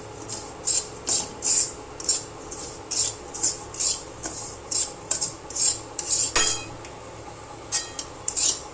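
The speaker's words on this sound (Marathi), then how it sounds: "रवा चांगला त्याच्यामध्ये भाजून घ्यायचा आहे" Semolina (rava) being roasted in a pan for makhana laddoo, stirred with a metal spoon that scrapes and clinks against the pan in a steady repeated rhythm, close and fairly clear, with no talking.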